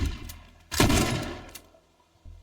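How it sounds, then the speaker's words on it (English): A shotgun blast in the video game Teardown booms out once, loud and close, its roar trailing off over about a second, with a short low thump following afterward. "Shotgun."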